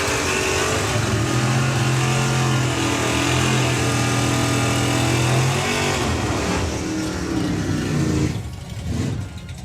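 Drag racing cars, a Plymouth Belvedere and a Camaro bracket car, run together, producing a loud sustained engine roar with steady tonal drone that fades and breaks up near the end.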